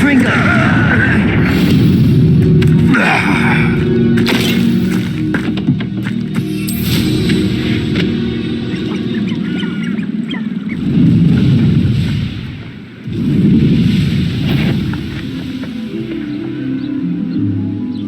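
The Confringo fire spell goes off in Hogwarts Legacy as repeated loud booming explosions over dense game noise, with chirping and voices mixed throughout.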